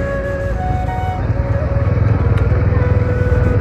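A freshly washed motorcycle rides along a muddy road, its engine a close, steady throbbing drone that grows slightly louder and more pulsing partway through.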